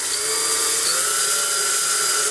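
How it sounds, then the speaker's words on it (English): Power drill with a 1/2 inch bit boring slowly into acrylic backed by scrap wood, a loud, steady high-pitched whine with a constant motor tone, close by and alone. "I have a 1/2 inch drill bit in my drill here. And go ahead and drill this"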